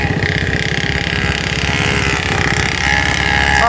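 A small petrol-engined boat putters steadily, a loud close low rumble with a rapid regular chugging pulse that holds on without a break.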